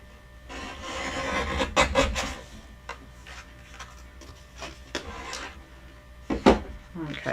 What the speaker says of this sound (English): so now I'm going to trim my